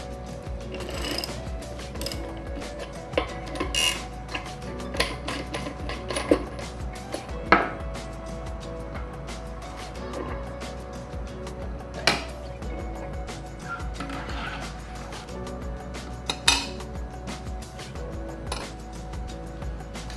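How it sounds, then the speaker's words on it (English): Ratcheting, clicking and metallic clatter of a lock ring tool loosening the stock 4-speed cassette on a Brompton T Line bike, with sharp intermittent clicks over a steady low hum, close by with no talk. "Using a cassette lock ring tool, I'll loosen and remove the stock 4-speed setup"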